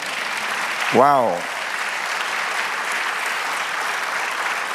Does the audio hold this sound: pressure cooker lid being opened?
no